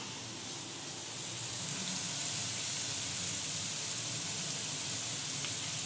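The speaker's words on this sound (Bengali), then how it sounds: "আলু পেঁয়াজ ভাজা চলছে এদিকে।" Potatoes and onions fry in a pan with a steady, even sizzle and hiss that holds at one level from start to end, with no voices.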